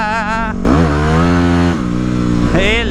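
A Yamaha WR250X supermoto motorcycle riding on wet asphalt in the rain, its engine droning loudly and close with rising and falling revs throughout.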